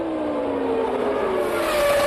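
Formula 1 cars roar away at a rainy 1997 Grand Prix start, a loud, sustained engine whine rising in pitch as the pack accelerates, with a steady wash of noise throughout.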